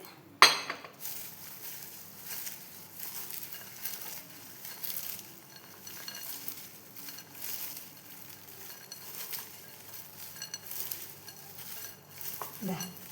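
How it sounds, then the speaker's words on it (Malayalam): A spoon stirs fried green papaya mixture with fried peanuts, curry leaves and garlic in a metal pan, giving repeated scraping and clinking strokes with a light sizzle, opening with one sharp clang. "വെളുത്തുള്ളി അതും കൂടി ഇതിലേക്കിട്ട് മൊത്തം മിക്സ് ചെയ്യുന്നുണ്ട്."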